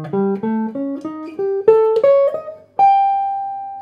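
Guitar slowly repeating a two-note Lydian jazz pattern, clean sustained plucked notes stepping upward before one long held tone at the end, alone with no talk.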